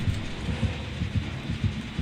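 Repeated low heartbeat thumps in the Dead by Daylight horror game pulse steadily about twice per second, loud and close over a dim ambient rumble, with no talking.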